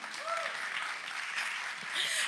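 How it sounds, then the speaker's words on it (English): Loud audience applause fills a stage event at a startup accelerator demo day, steady and dense throughout, with a few whoops and voices rising over the clapping. "Round of applause."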